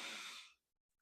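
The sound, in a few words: deep breath being taken in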